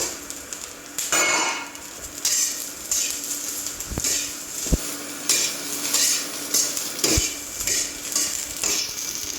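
Onions stir-fried in a wok on an induction burner, steady loud sizzling with repeated scraping and clanking of a metal utensil against the pan, close up and without talk.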